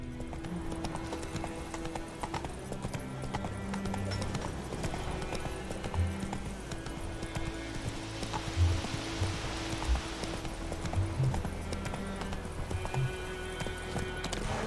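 Horse hooves clip-clopping steadily in The Witcher 3: Wild Hunt, a continuous rhythmic trot under layered game ambience with occasional soft rain and a brief whinny, moderately loud and close throughout.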